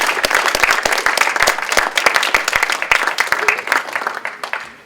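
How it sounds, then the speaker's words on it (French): An audience applauds a woman lecturer after a talk on black holes and their first images, a dense, steady burst of many hands clapping close by that eases off slightly toward the end. "je vous demande d'applaudir encore une fois Madame Pascal"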